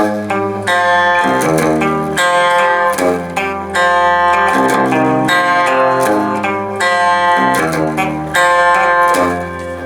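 A distorted electric guitar plays a riff, with chiming, sustained notes and a steady repeating pattern, played loud and alone with no voices.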